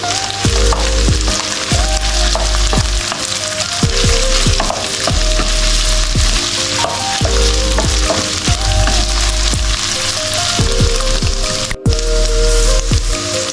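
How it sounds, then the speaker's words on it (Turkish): Dried apricots and raisins sauté in a hot pan for Ottoman honeyed Mahmudiye, a loud, steady sizzle and crackle with repeated scrapes and stirs of a utensil against the pan, no voices. "Kuru kayısı, kuru üzüm. 2-3 dakikada bunları kavuruyorum."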